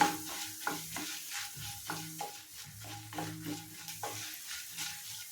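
Peanuts roasting in a pan over low heat and stirred, a soft rhythmic scrape and rattle of nuts against the pan repeating about once a second, close and quiet, no voices.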